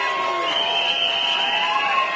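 Supporters at a Singapore general election results night rally cheering and chanting, a dense, steady roar of a large crowd with voices and whistles blending continuously throughout.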